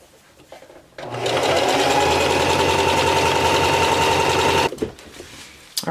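A sewing machine stitching a drawstring backpack runs in one steady, loud burst of about four seconds, starting after a short quiet lead-in and stopping abruptly, followed by faint handling noise.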